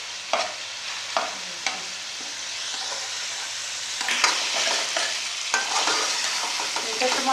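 Tomatoes sautéing in a karahi for Peshawari Shinwari beef karahi, a continuous sizzle broken by several sharp spatula scrapes and knocks against the pan, with no talking.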